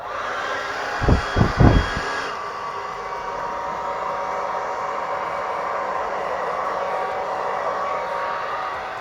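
Air is blown across fluid acrylic paint in the Dutch pour technique, making a steady, loud whooshing rush that runs the full length after a few low thumps near the start.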